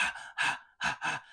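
Four heavy, rhythmic breaths, close and breathy with short gaps between them, open a song.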